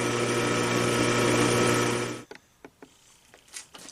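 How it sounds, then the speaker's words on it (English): Drill boring pilot holes in steel with a 9/32 bit for a ring knife, a loud steady whine for two seconds that stops abruptly, followed by a few scattered metallic clicks and knocks. "I'm going to pilot these with a 9/32, and then I'll go back through with a half-inch"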